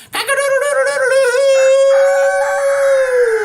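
One rooster on a farm lets out a single long crow, close and loud, starting with a quick stuttering burst before settling into a sustained ringing call with nothing else audible.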